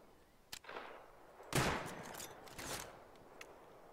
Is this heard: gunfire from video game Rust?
yes